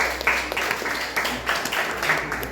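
A classroom group claps in steady applause for a presenting team, a moderate wash of hand claps with faint background chatter.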